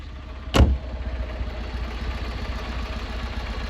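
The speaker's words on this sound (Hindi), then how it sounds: "बाकी आपको एग्जॉस्ट साउंड भी सुना देता हूँ," A Tata Nano's exhaust idles in a steady low rumble close by, preceded by a brief louder burst as it revs or starts, then settles into an even drone.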